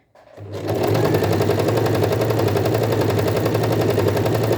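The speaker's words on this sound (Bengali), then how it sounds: "দেখেন আপনাকে সেলাই দ্রুত করতে হবে" A sewing machine fitted with a gathering foot starts up and stitches fast, a loud, close, rapid rattling hum that holds steady and unbroken after a brief start.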